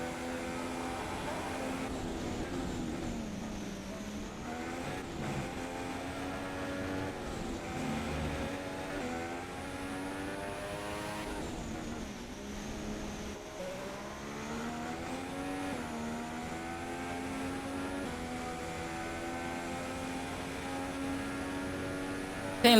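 A Formula One car engine in a racing video game drones at high revs with shifting pitch, sweeping up and down through gears over a sustained stretch, with faint commentary underneath.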